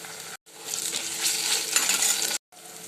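Chopped onion fries in hot oil in a home kitchen, a close, steady crackling sizzle that stops briefly and then resumes, with no voices.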